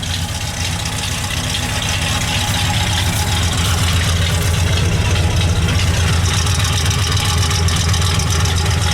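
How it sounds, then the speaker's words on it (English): A 1972 Ford F250 four-wheel-drive highboy pickup with a 390 V8 engine, idling steady and loud up close with a deep rumbling throb that holds constant the whole time. "Has a high idle when it first starts to warm up the motor."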